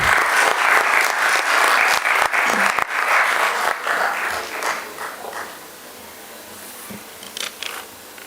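Conference audience gives a speaker a round of applause at a physiotherapy event, dense and loud at first, then tapering into scattered claps that fade out over several seconds.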